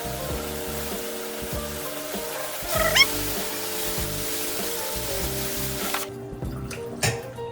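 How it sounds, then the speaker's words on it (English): Rice washed by hand in water inside a draining tray, with steady close swishing and running water and a few louder splashes and clatters. "I just keep on washing the rice like this"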